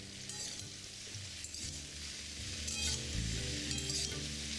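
Potato and cauliflower frying in oil, a faint steady sizzle with soft stirring scrapes and a low background hum, no voices.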